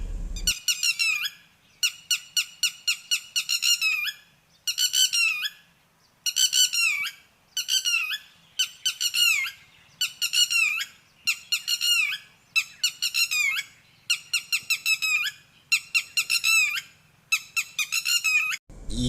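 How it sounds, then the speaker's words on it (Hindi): A red-wattled lapwing in Haryana farmland gives repeated loud, sharp squeaky calls in quick bursts of several notes, close by, with short gaps between the runs and no other sounds. "ये जो पक्षी है ये रेड वीगल है और इसको हरियाणा के जो किसान भाई है वो वैसे टटीरी के नाम से जानते हैं।"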